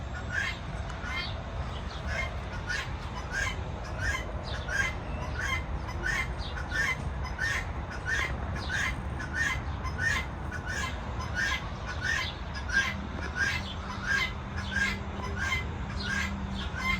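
A rooster on a Canadian farmhouse property squawks in a fast, regular series of sharp calls, repeating about twice a second over a constant low background rumble.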